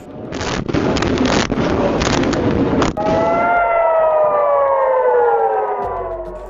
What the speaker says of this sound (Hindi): इस इलाके में हवाई हमलों के सायरन बज उठे